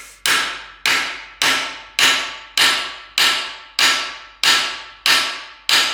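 A hammer strikes a rivet snap on a rivet while forging a pair of wolf jaw tongs, ten loud ringing metallic blows at an even, steady rhythm, each ringing briefly before the next.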